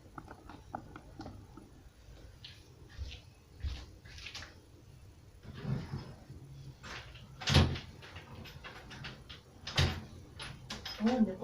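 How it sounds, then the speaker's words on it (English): A wooden drawer is pulled out of a bedside chest and slid back in, with several knocks and scraping bumps of wood, two sharp thuds standing out, close by. "I'll swap that middle drawer and we'll put this third one back in."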